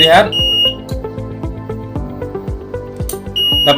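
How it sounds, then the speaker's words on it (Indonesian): An electronic buzzer sounding in a salt-water circuit test with a relay, giving a loud, steady, high-pitched electronic tone with harmonics, broken by sharp clicks and brief gaps. "buzzer menyala dan relay pun menyala di dalam air garam"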